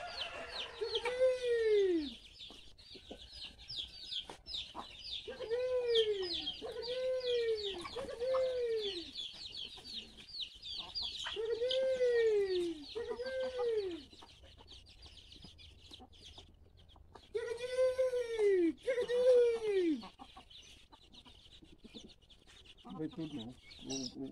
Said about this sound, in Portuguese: O frango não vai comer do galo.